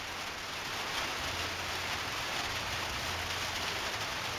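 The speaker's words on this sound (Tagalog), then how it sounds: "Inabutan pa kami ng ambon, pero okay lang." Light drizzle falling steadily outdoors, a soft continuous hiss of fine rain with no break, fairly even and moderately close, with no voices over it.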